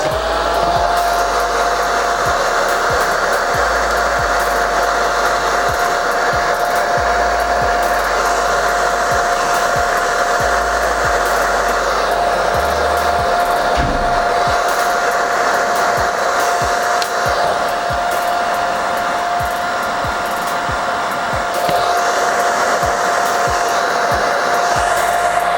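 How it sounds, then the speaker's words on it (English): A handheld hair blow dryer set to low heat, used for stretching hair after a wash-and-go, runs continuously with a steady close whir and high tone for the whole stretch, with no talking. "then you put your blow dryer on low heat"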